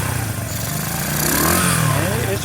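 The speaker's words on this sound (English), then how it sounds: "so it starts right up without a choke" Phatmoto motorized bike with its small gasoline engine already warm, starting without the choke and settling into a steady, close buzzing idle that rises slightly.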